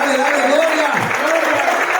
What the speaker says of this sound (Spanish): Dale un aplauso, pues.